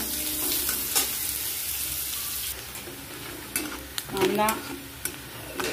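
Onion, chilli and garlic frying in a pan for kunjir bhaji as the onion browns: a loud, continuous sizzle with stirring scrapes and a few sharper clinks near the end.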